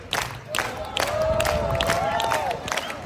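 A street festival crowd at the Edinburgh Fringe claps in quick bursts and cheers with whoops and shouts, fairly distant and lively throughout.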